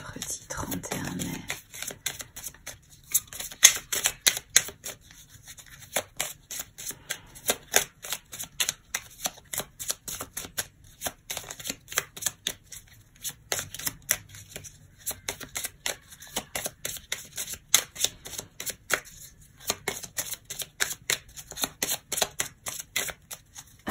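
A deck of cards is shuffled near the microphone before a tarot-style reading, with long runs of rapid riffling and flicking interrupted by brief pauses, softly steady throughout.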